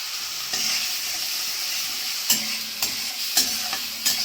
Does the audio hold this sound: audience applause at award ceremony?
no